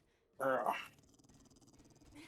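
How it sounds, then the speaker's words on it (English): A dog growls in a short, loud, rough burst close by, then a low rumbling growl trails off more quietly. "I hear a doggy."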